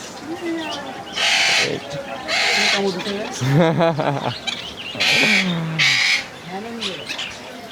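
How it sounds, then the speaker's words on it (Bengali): Pet birds at a market, including finches and cockatiels, giving loud, harsh squawks in repeated bursts close to the listener, with brief chattering calls between them. "এখানে অনেক রকমের পাখি পাওয়া যায়"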